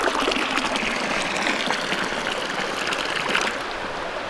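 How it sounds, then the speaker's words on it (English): Cold running water rinses drained noodles outdoors by a small stream, a loud, steady rushing splash that eases slightly near the end, with no talk. "So you drained the noodles and now you're mixing with cold water"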